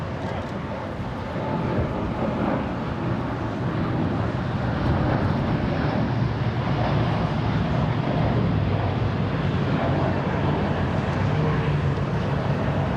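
A jet roars in a broad, steady rumble as it takes off at LAX, bound for Santiago, heard from a distance outdoors with wind and a voice talking over it.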